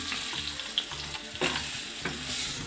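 Turmeric and Byadgi red chilli powder are stirred into hot oil with garlic and curry leaves in a pan, giving a soft continuous sizzle broken by a few sharp spoon scrapes.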